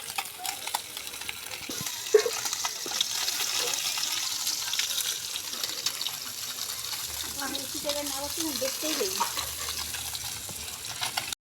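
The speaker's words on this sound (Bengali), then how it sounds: "মাছ ভাজা কমপ্লিট।" Small fish frying in a pan, likely over a wood or gas fire, giving a steady broadband sizzle with occasional stirring clatter and faint talk in the background throughout.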